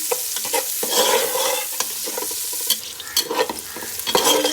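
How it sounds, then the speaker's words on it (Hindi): Onions sizzle and crackle in hot oil, frying until they change colour, while a utensil stirs and scrapes the pan at close range. "हमने प्याज लेना है और इसको कलर चेंज होने तक पकाना है"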